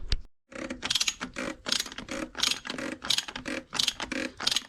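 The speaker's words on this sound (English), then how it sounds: "I'll just get the spanner on that because it's gone a bit tight." A spanner tightens the oil sump plug on a Mercedes ML350 BlueTEC (W166, OM642 diesel) during an oil change. The ratchet makes a close series of about six rhythmic clicking strokes with short pauses between them, and no one speaks.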